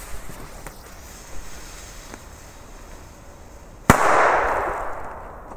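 A Panda Booster D firecracker bangs once, a sharp loud report followed by a few seconds of hissing, crackling fallout after a quiet outdoor stretch with faint distant pops.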